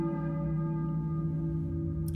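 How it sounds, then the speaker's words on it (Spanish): A church bell tolls in Silent Hill 1, one sustained, ringing strike with a steady humming decay that fills the whole stretch, loud and alone with no talk. "¿Cuál es la campana de una iglesia?"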